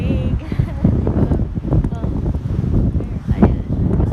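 Wind blowing outdoors and buffeting the microphone, producing a continuous rough, low rumble with uneven gusts throughout.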